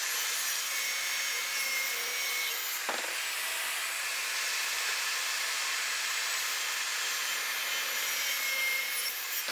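A jointer flattening the face of a wooden board, a steady loud whining rush of cutterhead and chips running continuously and close, with a brief knock partway through.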